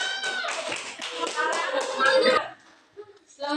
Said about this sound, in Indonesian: Tepuk tangan dulu untuk kelompok ini